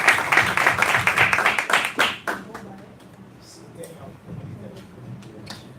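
Hands clap in quick applause at a church gathering, loud and dense at first, then stopping after about two seconds and giving way to quieter room sounds and a few scattered taps.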